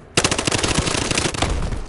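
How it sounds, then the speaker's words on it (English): Rapid automatic gunfire from the video game Battlefield Hardline bursts in suddenly and loud, a dense, continuous rattle of shots close by with no talking over it. "Oh, I just got shot."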